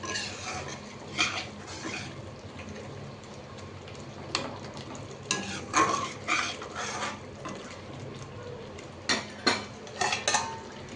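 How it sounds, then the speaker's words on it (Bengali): Spice masala is stirred and fried in a pan, with scraping utensil strokes and clinks against the metal coming in irregular bursts over a faint background sizzle, close and without talk. "মশলাটা ভালো করে না কষালে খেতে ভালো লাগবে, গন্ধ লাগবে কাঁচা কাঁচা।"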